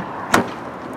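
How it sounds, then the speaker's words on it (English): The rear door of a Nissan Juke Nismo RS Recaro Tech Pack swings shut with a single short, solid thud, close by, against a quiet steady background. "Closing up the rear door then and coming around to the front."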